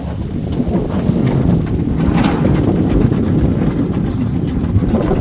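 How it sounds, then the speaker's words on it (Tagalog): Strong wind roaring and buffeting the microphone outdoors in Romania in winter, a constant heavy low rumble with no break throughout. "Lakas ng hangin!"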